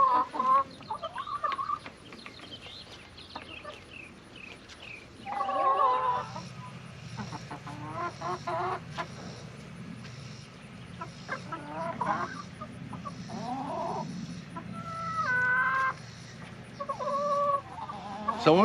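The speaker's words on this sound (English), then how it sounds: "you can look at these hens here" Farm hens cluck and chatter close by in a steady stream of short calls, with a few louder squawking bursts rising over a low background rumble. No talking is heard.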